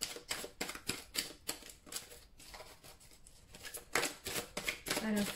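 Tarot cards being shuffled, a steady rapid riffling and flicking of card stock going on under a woman's soft speech, close and continuous.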